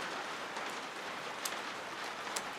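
Steady rain falls outdoors beside a sawmill, a dense even hiss of drops with occasional sharper patters, continuous and moderately close, no voices.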